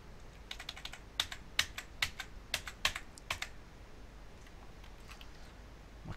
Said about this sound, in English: My keyboard's broke again.